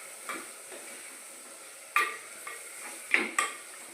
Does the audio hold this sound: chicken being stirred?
yes